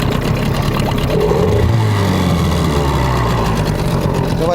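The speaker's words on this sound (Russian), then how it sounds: "Давайте посмотрим, как будет на нем работать мотор." A two-stroke outboard motor running on Sumitachi TC-W3 oil drones steadily and loudly up close, its pitch rising and settling once as the throttle shifts, with a constant rough mechanical roar throughout.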